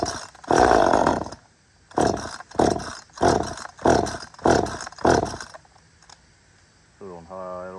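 Repaired chainsaw revving in repeated bursts on high idle, six loud close pulses of roaring engine separated by short pauses, then settling into a quieter idle.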